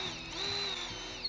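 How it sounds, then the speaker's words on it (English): A power drill spins a plastic spool to wind mason's line back onto it, a steady high motor whine held for over a second, close and alone, easing off near the end. "now you can use the power of the drill to put the line back on the spool"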